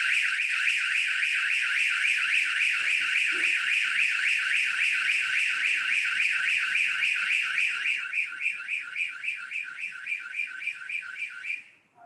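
A security camera alarm set off by stranger face detection, a loud electronic warbling siren cycling rapidly and steadily for several seconds, then pulsing more choppily before cutting off.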